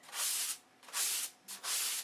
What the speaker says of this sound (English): Sanding is an art.